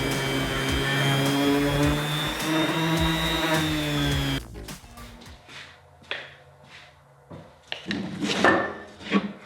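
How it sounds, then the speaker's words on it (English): Steady abrasive whirring of a power sander on a wooden end table for about four seconds, then stops, followed by scattered scraping and rubbing sounds. "And then I am sanding it all the way down"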